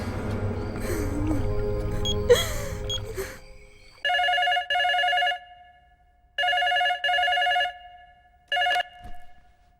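A telephone rings in repeated double-burst electronic rings after a stretch of speech, with silence between the ring cycles during an outgoing call.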